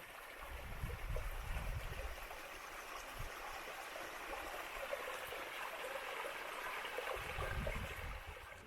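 Water from Brewery Springs near Panamint City runs in a steady, unbroken rush, with a low rumble that swells and eases in the background.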